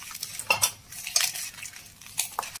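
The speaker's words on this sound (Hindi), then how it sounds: "अब इसको हम अच्छी तरह मिला देंगे ऐसे, क्योंकि हल्दी नमक मिर्ची सारे में लग जाए।" A spoon clinks and scrapes in a bowl while poha flakes are mixed with turmeric, salt and chili, giving a few sharp metallic knocks between softer rustling stirs.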